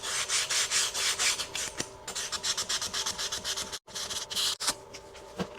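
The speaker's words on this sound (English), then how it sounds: "We're going to go back over everything with some 220 grit sandpaper just to get those file marks off." Wood being sanded by hand with 220 grit sandpaper to remove file marks on a muzzleloader project: a steady, close run of rhythmic rasping strokes with a few brief pauses.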